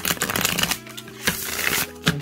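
Oriens Animal Tarot cards are shuffled by hand close up, a quick run of crisp riffling flutters followed by a pause and a couple of brief sharp card slaps, fairly quiet with no talking.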